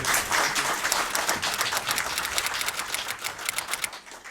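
An audience at an annual general meeting gives two guest speakers a round of applause: a fairly quiet, even patter of many hands clapping that holds steady and then tapers off.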